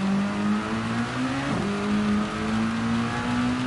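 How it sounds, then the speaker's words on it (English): Race car engine in Gran Turismo 7, driven at Suzuka in the wet, drones loud and steady throughout with a sustained tone that dips briefly mid-clip as revs shift, then climbs again. "that engine noise in my ears was absolutely deafening me"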